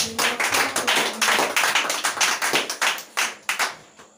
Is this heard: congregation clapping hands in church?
yes